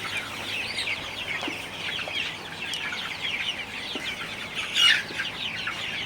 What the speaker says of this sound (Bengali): আপনারা দেখতে পাচ্ছেন আমার মুরগির ঘরে সব মুরগিগুলো পানি খাইতেছে